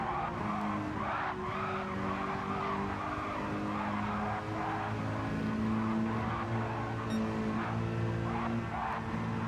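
Race car engine revving down with tire squeal as it brakes into a corner at Le Mans in a multi-class endurance racing video game, steady and loud throughout with no talk.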